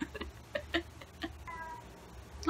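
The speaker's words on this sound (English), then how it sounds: "The cat's making noises out there." A cat meows several times in short, quiet calls, with a longer drawn-out meow midway, against faint background hum.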